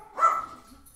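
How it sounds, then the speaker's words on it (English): A dog barking indoors, a single short muffled bark from some distance, fairly faint and alone. "I hear my dogs barking."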